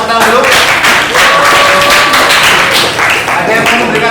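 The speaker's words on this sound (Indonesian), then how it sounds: "Silakan tepuk tangan dulu" Classroom applause from students in a mathematics lesson, a dense burst of clapping lasting several seconds, loud and close, with voices mixed in underneath.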